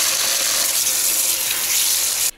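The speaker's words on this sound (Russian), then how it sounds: "Заливаем полностью ведро холодной водой." Cold water pours steadily into a bucket, a dense continuous rushing gush that stops abruptly near the end, close and loud with no talking.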